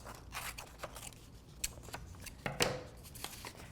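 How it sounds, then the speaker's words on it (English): Scissors cut a rectangle of colored paper, giving a quick series of close, crisp snips and rustles at an uneven pace, quiet and alone. "you're going to cut kind of a rectangle or a square"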